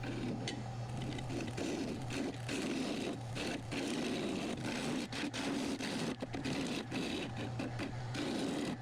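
A wood lathe hollows the top of a box elder bowl, the gouge scraping and chattering against the spinning wood in a rough, steady drone with rhythmic catches, fairly quiet and without speech.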